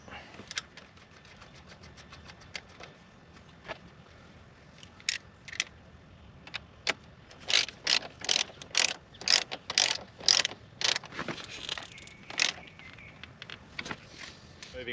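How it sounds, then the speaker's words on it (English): A ratchet clicks rapidly in repeated bursts while tightening the steering wheel nut on a Nissan X-Trail, close and sharp, starting sparse and growing into a dense run of pawl clicks. "We'll put the nut back on. We'll do that up tight."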